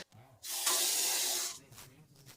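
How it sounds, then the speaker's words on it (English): Water runs from a single-lever hot and cold faucet in a steady broadband rush for about a second, starting and stopping cleanly, with quiet room tone around it. "This faucet here, look, hot and cold water, single lever, okay?"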